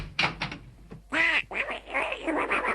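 A cartoon duck quacks in short, loud, raspy bursts, with several squawking outbursts in quick succession during a radio comedy broadcast, close and clear.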